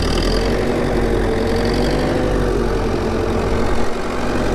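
An old International TD-14 crawler tractor engine runs loud and steady as the throttle is pushed up, a continuous rough diesel drone with a knocking low rumble, heard close with no voices.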